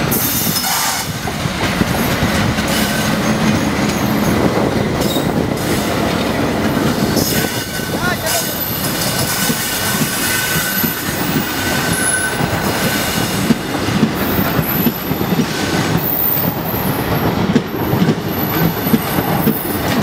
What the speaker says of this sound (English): This will be the fastest train between Chennai and Mumbai.